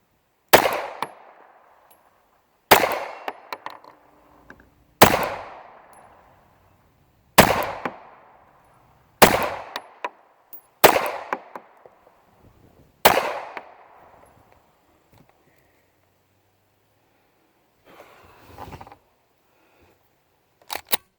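Single 9mm pistol shots from an FNS 9c Compact firing bulk ammunition, about seven loud sharp reports spaced a couple of seconds apart, then a pause and two fainter sounds near the end with no talking.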